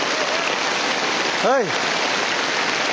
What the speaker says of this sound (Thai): บรรยากาศตอนนี้ฝนตก